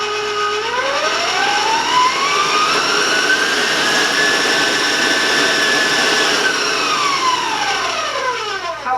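An electric mixer running at high speed for coconut cookie bar batter under a towel, its loud whine sliding up in pitch, holding steady, then sliding back down as it slows, close and continuous with no talking.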